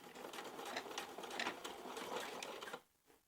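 A sewing machine runs a steady stitching line through heavy denim on a pair of overalls, a fast continuous mechanical whir that stops abruptly near the end, close and with no talking.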